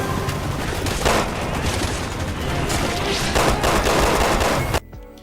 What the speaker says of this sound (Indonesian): Musuh bersenjata, ledakan, dan fokus ke tembak-menembak.